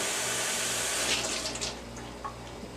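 Cold water runs from a kitchen tap in a steady, close splashing rush, easing slightly in force partway through, with no talk.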